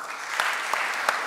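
Applause from a congregation at a theological college commissioning service, a steady patter of many hands clapping with a few sharper claps standing out, fairly close and without talk.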